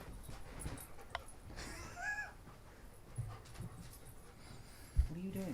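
Benny the dog whimpers softly in a quiet room during a podcast, faint scattered whines and small squeaks with a few light bumps and shuffles, one louder knock near the end.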